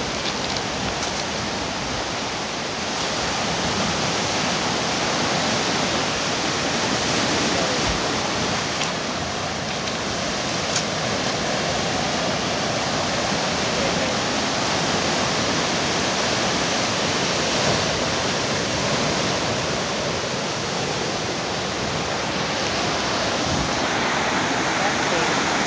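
Ocean surf at Pepekiao, Hawaii, in the dark roars as a dense, continuous wash of breaking waves, loud and steady throughout with no pauses.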